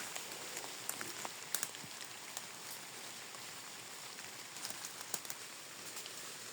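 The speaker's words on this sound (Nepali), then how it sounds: "पानी पर्नु थाल्यो" Light rain begins to fall in a rural area where goats are grazing, soft pattering drops and occasional sharper ticks spread sparsely over a faint, steady background, with no talking.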